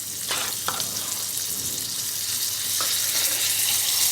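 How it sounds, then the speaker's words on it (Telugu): Hot tempering oil sizzles as ground mint and ridge gourd chutney is added, a continuous bright frying hiss with a couple of short sharp spatters. It is loud and close, with no voices. "తాలింపు బాగా ఫ్రై అయిన తర్వాత మనం ముందుగా నూరుకున్న పచ్చడి వేసుకోవాలి."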